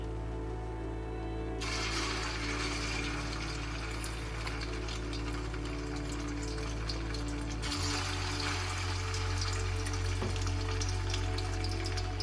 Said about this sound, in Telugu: ఇప్పుడు ఆయిల్ వేడిగా అయ్యాక మనం ఈ మటన్ ముక్కల్ని వేసి వేయించుకోవాలి.